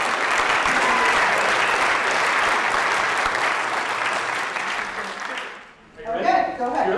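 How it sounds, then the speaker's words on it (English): An audience applauds loudly and steadily for several seconds before the clapping fades out and a person begins speaking. "Let's give her another round of applause."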